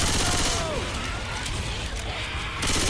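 Heavy overlapping gunfire aimed at the Tank in Left 4 Dead 2, a dense continuous barrage with crashes and chaotic game noise throughout, loud and close.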